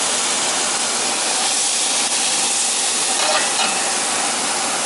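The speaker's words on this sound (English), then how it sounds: "We don't want to overcook the steak because it's not that thick." A T-bone steak sizzles loudly and steadily in a hot pan, a dense continuous crackle and hiss throughout.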